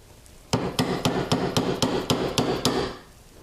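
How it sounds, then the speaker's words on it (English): Nine sharp metallic hammer taps on a center punch marking metal for jewelry drilling, in a steady rhythm, close by, each a bright ringing strike on metal, then quiet. "The divot here from the center punch is so that our drill bit doesn't skitter around."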